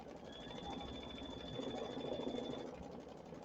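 A sewing machine runs continuously while quilting, with a fast, even mechanical whir that holds for several seconds, close and fairly quiet.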